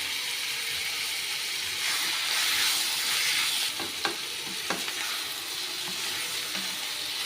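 Chicken for a spicy pepper chicken fry sautés in hot oil in a pan, a continuous close sizzle and hiss with a few sharp stirring clicks and scrapes toward the end.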